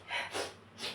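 Three short nasal sniffles in quick succession, close and fairly soft, with no talk over them.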